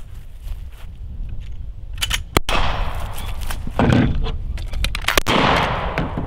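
Rifle and shotgun shots during a cowboy action shooting transition: a few sharp, loud cracks ring out nearby over rustling handling noise and metallic clinks of shells.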